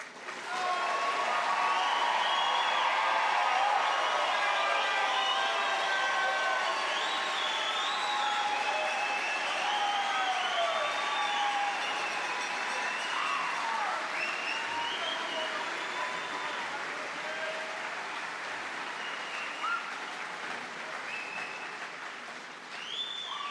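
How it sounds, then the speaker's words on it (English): A packed commencement audience gives the graduates of Carihi's 2024 class a sustained round of applause, dense clapping at full strength throughout that eases slightly toward the end, with no voices standing out. "giving our graduates a well-deserved round of applause as they rise to be recognized as a class"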